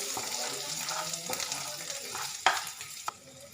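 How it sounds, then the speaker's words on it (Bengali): Ginger garlic paste fries in a pan as a spoon stirs it, a soft close sizzle with scraping strokes and a couple of sharper knocks, no voices. "এটাকে আমি আদা রসুনের কাঁচা গন্ধটা যতক্ষণ না যাচ্ছে ততক্ষণ একটু নেড়ে চেড়ে ভেজে নেব।"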